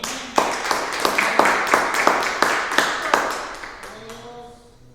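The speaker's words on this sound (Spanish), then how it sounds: "Denle un aplauso al Señor, hermano." A church congregation claps in a fast, regular rhythm, sharp and fairly close, for about four seconds before the beat stops and a faint voice carries on.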